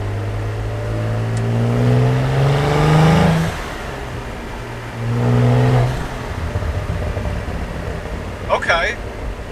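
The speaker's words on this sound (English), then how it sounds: "I can hear a little bit of blow-off valve, diverter valve sound going off." A Cadillac CT4-V Blackwing engine revs up twice in rising, falling surges, loud and near, followed by a brief sharp hiss of the blow-off valve near the end.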